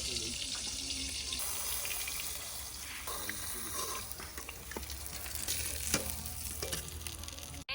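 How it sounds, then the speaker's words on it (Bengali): Pieces of hilsa fish fry in hot oil with a steady, close sizzle throughout, broken by occasional clinks and stirring sounds from utensils. "মাছগুলো একই তেলে ভেজে নেব"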